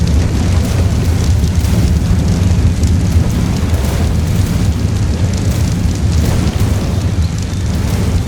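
Heavy rain pours down in the video game ARK Survival Ascended, a loud, dense, unbroken roar with deep rumbling underneath that holds steady throughout.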